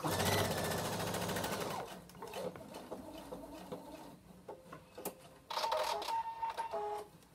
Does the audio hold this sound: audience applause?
no